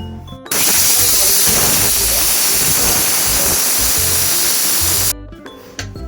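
A pressure cooker of tomato biryani with rice, onion, masala and water lets out one loud, steady steam whistle. It hisses close by and on its own for about four and a half seconds, then cuts off abruptly.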